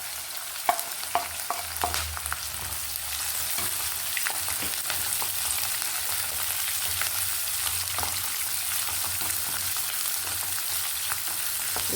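Chopped onions, green chilies and curry leaves fry steadily in hot oil for a potato curry, a close continuous sizzle broken by a few sharp pops and spatters, with no one talking.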